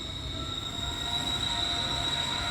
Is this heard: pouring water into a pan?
no